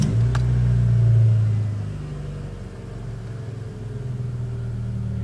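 A 1995 Mitsubishi Mirage engine catches and revs briefly, then settles into a steady, low idle nearby that dips and holds even.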